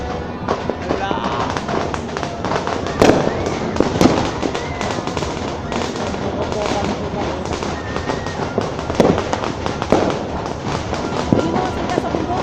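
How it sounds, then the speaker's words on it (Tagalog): Dense crackling New Year fireworks in the Philippines pop and burst continuously, loud and close, with people talking over the din. "Oh, may fireworks na!"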